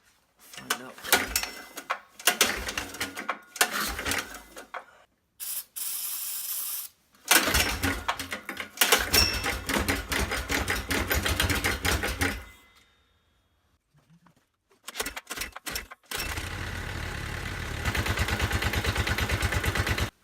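A small engine on a kitty kat build being cranked over repeatedly while the fuel system is primed, with bursts of mechanical whirring and clattering separated by short pauses, close and loud.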